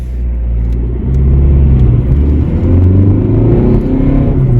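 Ford Fiesta 1.5 diesel, seventh generation, accelerating on a road, heard from inside as a steady, loud low engine rumble that builds slightly in strength and holds.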